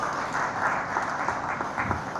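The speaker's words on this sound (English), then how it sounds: "A big round of applause to them." Crowd applause for professional bike riders at India Bike Week in Anjuna, a steady, dense wash of clapping at moderate distance that holds evenly throughout, without talk.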